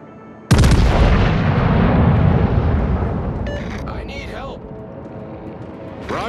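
Anti-aircraft guns fire in World of Warships: one sudden, powerful blast that rolls out into a long, fading rumble, with a voice speaking over the tail.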